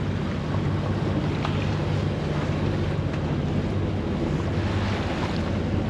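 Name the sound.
sea waves against a sailing boat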